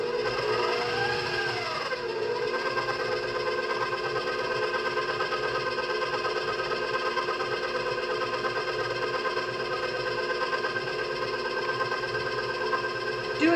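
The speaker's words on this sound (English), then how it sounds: "Now we're going to start our mixer back up, and we're going to add our dry ingredients to the wet ingredients." A stand mixer hums steadily while mixing snickerdoodle dough, a constant whirring motor drone with a faint rhythmic clatter, close and unbroken, with a brief swooping tone near the start.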